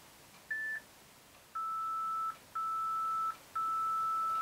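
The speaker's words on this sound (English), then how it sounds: "Here comes the beep." A workout interval timer sounds four electronic beeps: a short one followed by three longer sustained tones at a slightly lower pitch, evenly spaced, clear over quiet room noise during a seated dumbbell Tabata upper-body session.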